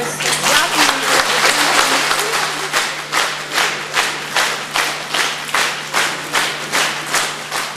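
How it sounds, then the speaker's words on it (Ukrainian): Stormy applause in a city council session hall as a standing audience honours heroic mothers, dense continuous clapping that settles into rhythmic, evenly spaced unison claps, with a steady low hum underneath. "Це було першим приводом для бурхливих оплесків"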